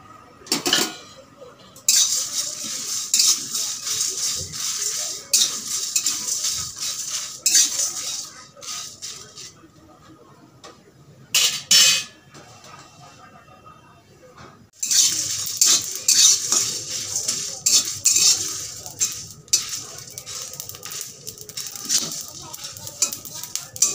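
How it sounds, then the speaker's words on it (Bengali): Black gram and whole spices stirred in a metal pan, with continuous loud metal scraping and clattering of a spatula against the pan, broken by a brief lull midway before the vigorous stirring resumes. "এবার এইগুলো দিয়ে এই ভালো করে কাঠকলাই ভেজে নিচ্ছি।"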